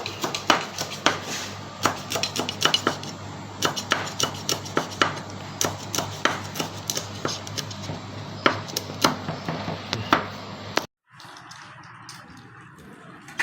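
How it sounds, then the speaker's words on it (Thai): Rapid, rhythmic chopping of a knife through meat on a cutting board, dozens of crisp sharp thuds, then it stops into quiet room sound. "ดูวิธีการหั่นครับ"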